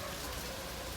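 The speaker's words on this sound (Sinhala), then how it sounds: "දැන් වහිනවා." Steady rain pours down in a brief, dense hiss of falling water, even and continuous with no pauses.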